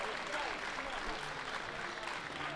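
An arena audience applauds at the 2017 World Classic Powerlifting Championships during a junior women's 43-52 kg event, producing a steady, dense wash of clapping that holds at an even level throughout.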